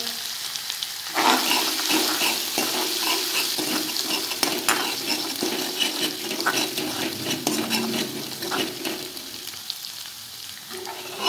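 Spice masala with salt and turmeric sizzles and fries in a pan while palak is being cooked. Steady crackling hiss runs throughout, with occasional stirring scrapes and light utensil clinks, close and moderately quiet.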